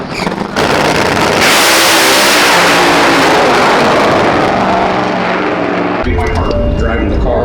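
A race car engine revs hard, a loud broad roar that builds quickly and holds for several seconds before cutting away to quieter running, close by and dominating everything else.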